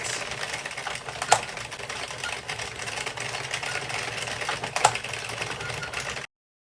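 An Addi King circular knitting machine being cranked through rows gives a steady, continuous mechanical whirring and clatter, close and even, with a couple of sharper clicks along the way.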